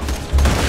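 Grenades explode in Borderlands 2, a quick burst of loud, booming blasts in close succession.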